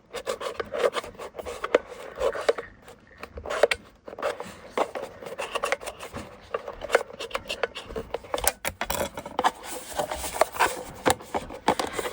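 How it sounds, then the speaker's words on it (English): Someone burnishes tape into place on a homemade ribbon container, producing close, repeated rubbing and scraping strokes in an uneven rhythm, fairly quiet, with no talking. "now I'm just going to go in and burnish that tape into place"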